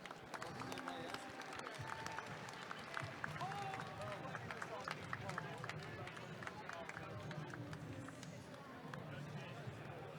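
A crowd at a robotics competition championship applauds the judges, steady dense clapping and cheering filling the hall over a murmur of voices.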